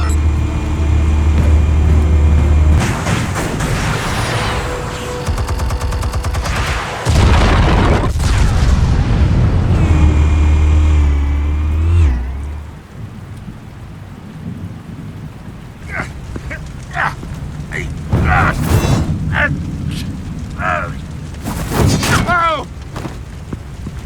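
Explosives detonate in Batman: The Telltale Series with heavy, sustained booming blasts and rumbling debris for over ten seconds. Quieter clattering and scattered impacts follow.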